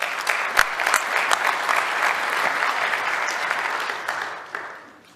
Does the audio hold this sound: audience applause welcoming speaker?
yes